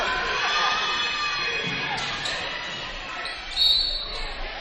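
A home crowd cheers at a high school basketball game, a loud sustained roar with shouts from the stands under a commentator's voice, swelling briefly near the end.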